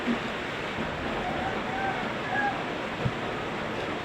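Steady, rushing wind noise from a strengthening outdoor storm fills the whole stretch, a broad roar buffeting the microphone with a brief thump near the end.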